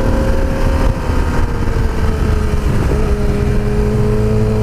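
A motorcycle rides along Lower Palomar Mountain Road, its engine a steady, loud, close drone with a slight pitch shift near the end, carried under constant wind rush and no talking.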